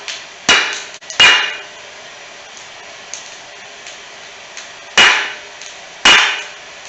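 Hammer striking a steel punch to drive out brake caliper slide pins on a field-find Chevrolet K5, four sharp metallic blows in two pairs separated by a pause, loud and close.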